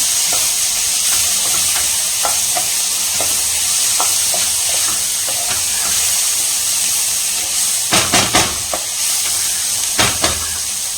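Ginger garlic paste sizzles steadily in a hot pan, a constant frying hiss broken by a few sharp clicks and stirring scrapes toward the end.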